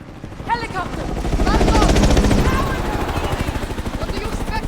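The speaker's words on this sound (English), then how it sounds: "helicopter!" A helicopter in the video game Modern Warfare thumps with a loud, fast rotor chop that swells and stays up close, mixed with bursts of gunfire and shouted voices.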